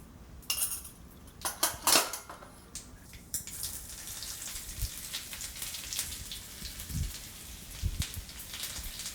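Mustard seeds and fenugreek crackle and splutter in hot coconut oil, sharp pops and a ladle clinking against the pan at first, then a steady light spitting sizzle with scattered louder snaps, close by and with no talk.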